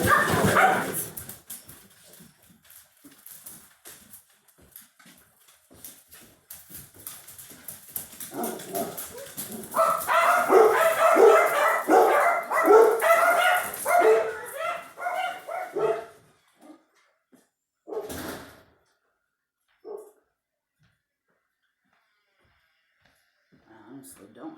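A dog barks in repeated bursts, with a few yips and whimpers, while a person talks over and between the barking.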